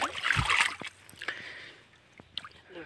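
A bicycle rides through water and throws up a loud close splash, followed by softer sloshing, dripping and squishing as it moves on.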